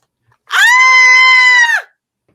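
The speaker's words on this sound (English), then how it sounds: "Each of you hear a scream in the distance." A single sustained, high-pitched scream, bleat-like in tone and heard from a distance, rises abruptly, holds steady for just over a second, then cuts off, with no other sound around it.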